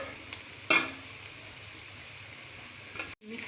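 Chicken and bitter gourd pieces fry and sizzle in a pan over a village stove, a steady soft crackle with one brief louder stirring scrape near the start and a short pause near the end.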